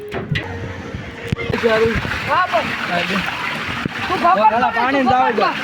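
Water splashes and rushes at a water park ride, a steady wash of spray under excited voices and shouts from riders close by.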